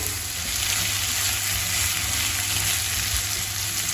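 Mushrooms and vegetables fry steadily in a pan for a vegan pâté, giving a continuous close hiss and sizzle with no pauses and no voices.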